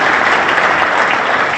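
Steady, dense audience applause fills a gift presentation at a hotel launch in Arusha, loud and continuous with no gaps and no voices over it.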